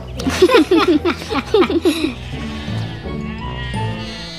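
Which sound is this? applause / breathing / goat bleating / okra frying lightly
goat bleating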